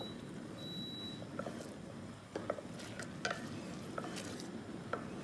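A soft, steady bubbling sizzle from thickening sauce in a pan, with occasional light pops and clicks of stirring, quiet and close.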